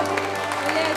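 A church congregation claps in steady, dense applause filling the room throughout, with a low constant hum beneath.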